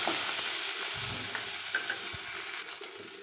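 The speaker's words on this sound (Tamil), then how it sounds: "வெங்காயம் போடுறேன். கருவேப்பிலை, கொஞ்சமாக மல்லி இலை போட்டு நல்லா வதக்கி விட்டுக்கிறேன்." Sliced onions, curry leaves and a little coriander leaf sauté in a pan, making a continuous moderate sizzle with faint stirring scrapes and no voices.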